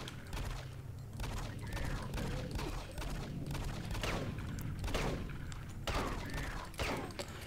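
Enemy gunfire in the video game DOOM 3 BFG Edition crackles in rapid, repeated bursts of shots and thuds over a steady low hum, dense and continuous throughout.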